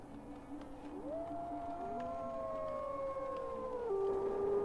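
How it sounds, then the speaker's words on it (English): Wolves howl in the survival city-building game Farthest Frontier, several long, overlapping wavering howls rising and falling at a distance over a soft ambient background, with no talking. "Oh, I can hear the wolves howl."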